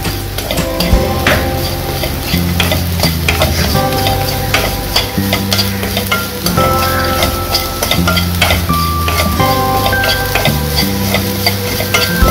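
Unnakkaya filling stirred in a pan as it melts and mixes, a continuous loud sizzle over repeated rhythmic scraping and light metallic knocks of the spoon.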